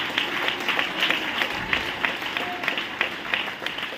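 A church congregation claps together in worship, a steady, rhythmic wash of many hands beating in time, moderately loud and filling the room, with faint voices underneath.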